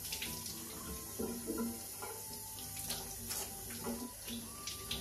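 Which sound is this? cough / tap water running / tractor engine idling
tap water running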